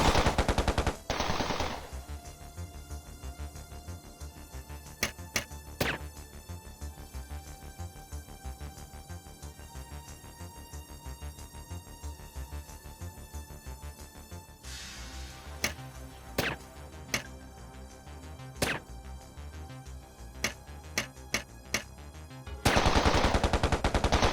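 Repeated gunfire from the PlayStation Portable game Scarface: Money Power Respect, with sustained automatic bursts and several sharp isolated shots, loud near the start and end over a steady game soundscape.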